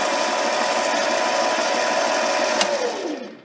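A metal lathe takes a light cleanup pass to knock burrs off a shoulder, giving a steady whirring machine drone with a high cutting whine that spins down and fades at the end.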